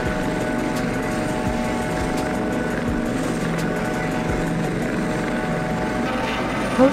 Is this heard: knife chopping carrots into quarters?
no